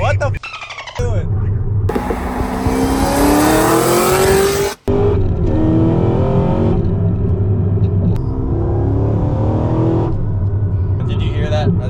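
A Cadillac engine revving hard and accelerating, a loud rising roar that builds, drops out abruptly for an instant, then surges again, with people talking over it.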